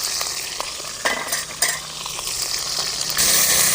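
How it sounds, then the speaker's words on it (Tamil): Mustard seeds crackle and pop sharply in hot oil, a busy continuous sizzle with scattered louder spits and a metal utensil clinking. "கடுகு நல்லா பொரியுது"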